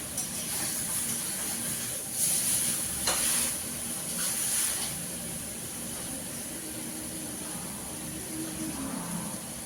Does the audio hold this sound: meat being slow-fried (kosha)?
yes